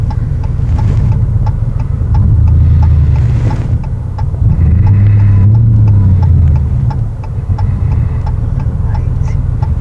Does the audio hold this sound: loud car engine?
yes